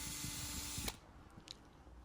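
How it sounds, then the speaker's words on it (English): Power drill countersinking a hole in a wooden lantern piece resting on scrap wood, a loud whirring burst for just under a second that cuts off abruptly, followed by quiet workshop handling noises. "Countersinking."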